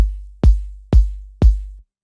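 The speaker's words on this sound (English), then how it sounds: "So there's a lot of texture to the kick." Four evenly spaced hits of a textured, layered electronic kick drum, each a sharp transient followed by a long, deep sub-bass tail, played loud and solo for a downtempo track.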